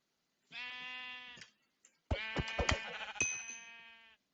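Sheep in a blocky Minecraft-style game bleat twice, one long wavering bleat alone followed by a brief pause, then a second, louder and rougher bleat overlapped by short clicky game noises.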